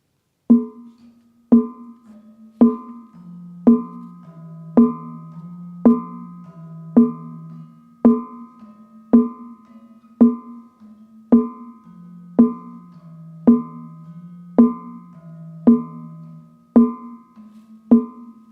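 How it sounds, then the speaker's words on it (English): Katuk, a gamelan instrument, struck at a steady, even beat about once a second, each stroke a bright, sharp attack over a low, humming tone that shifts pitch partway through, played alone with no talk. "I will play the katuk first because it sounds like this."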